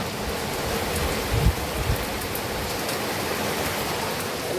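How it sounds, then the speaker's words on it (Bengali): Steady rain falls outside a home, a dense, even hiss that fills the whole stretch with a couple of soft thuds near the start and no speech. "আর এই বাইরে তো বৃষ্টি হচ্ছে।"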